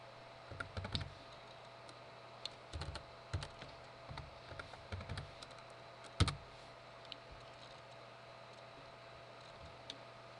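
Keys clacking on a computer keyboard as a command is entered in a Kali Linux terminal, with short bursts of quiet clicks, a few sharper isolated taps and one louder keystroke, set against a steady faint hum.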